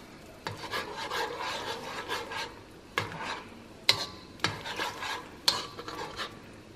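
A spoon scrapes and rubs around a pan as a sweet and sour fish sauce thickens, with repeated rasping strokes and a few sharper knocks against the pan's side, close and clear.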